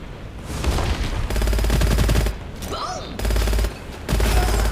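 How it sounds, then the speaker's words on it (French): A machine gun fires in the first-person shooter Gunfire Reborn, with several loud rapid-fire bursts separated by short pauses and brief game effects between them. "On repasse sur la mitrailleuse."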